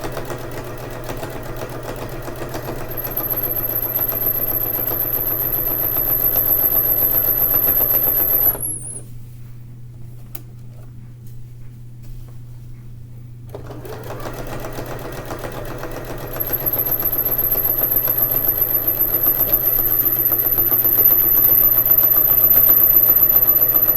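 A sewing machine stitching a thick homemade blanket hums with a steady motorized drone, stopping for a few seconds midway before starting up again and running to the end.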